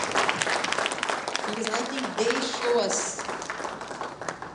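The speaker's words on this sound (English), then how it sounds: "can we give them all a huge round of applause" An audience at a charity event gives a loud, sustained round of applause, with dense clapping filling the space while a speaker's voice cuts in over it.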